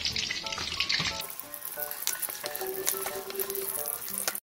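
Tofu fries in hot oil until dry, giving a dense, crackling sizzle throughout with bursts of sharp pops and spatters, loud and close.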